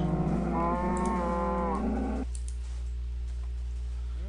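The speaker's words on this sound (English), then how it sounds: "since we have a bunch of wheat, we'll go meet some cows" Cows mooing in the Minecraft video game, one long drawn-out moo followed by a shorter fainter low call over a steady background hum.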